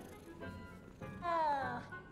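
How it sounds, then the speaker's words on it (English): A cat meows in Hogwarts Legacy, one clear, rising-then-falling meow near the middle after softer earlier calls, heard fairly close over quiet ambience. "No, get out of here, cat."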